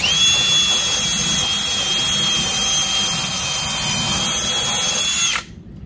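A power drill whirs steadily at high speed for over five seconds, loud and close, then cuts off abruptly.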